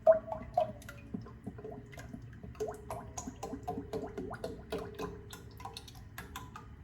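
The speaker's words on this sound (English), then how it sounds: "we're just going to pour it straight in there" A full quart of heavy whipping cream is poured into a pan over medium-high heat: a steady liquid pour with scattered drips and small ticking splashes, close and moderately quiet, with no voices.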